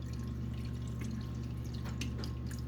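Soy sauce pours into a dish in a kitchen as a faint trickle and a few small splashes over a steady electrical hum, with no one speaking.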